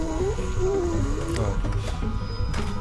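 A zombie in The Walking Dead video game gives a low, drawn-out growling snarl with a wavering moan, loud and close over a rumbling background.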